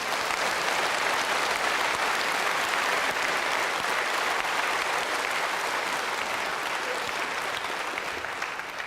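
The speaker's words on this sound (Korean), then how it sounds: "그런 말씀을 주시는 하나님께 박수 좀 한번 쳐드려요." Sustained applause from a large church congregation, dense and steady clapping throughout with no break, fading only slightly toward the end.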